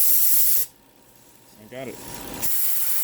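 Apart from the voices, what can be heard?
compressed air spraying onto car sensor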